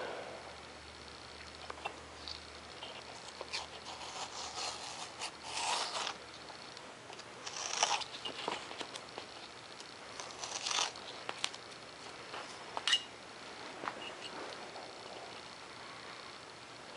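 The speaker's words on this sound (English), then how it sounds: "I'll go ahead and trim off these ends." A blade trims off the ends of a foam board wing for a profile 3D model plane, giving faint scattered scraping and crackling cuts against a quiet room.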